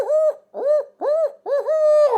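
A hunter's voice mimics an owl hoot, four loud, close, rising-and-falling hoots with short gaps, the last one drawn out, used at first light to draw gobbles from turkeys in Missouri.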